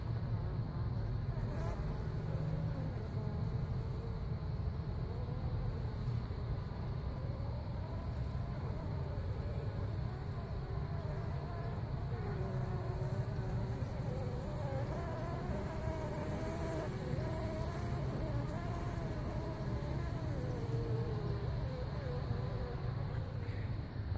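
A honeybee swarm buzzes steadily and densely during removal from a mobile home in Lakeland, Florida, a continuous close hum filling the whole stretch with faint background voices.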